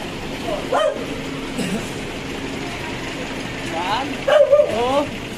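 A dog barks and yips a few times, close by, with faint background noise and some quiet pauses between the bursts.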